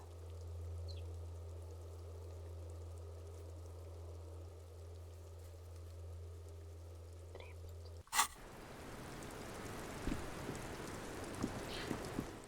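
Rain in the Disco Elysium video game sets in abruptly after a steady low hum, then continues as a dense, even hiss of falling drops with occasional soft patters.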